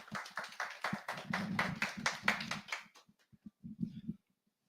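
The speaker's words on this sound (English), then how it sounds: "please welcome him with a big applause" A tech talk audience claps for an arriving speaker, a small, close group whose clapping is dense at first and then tapers off into a few scattered final claps.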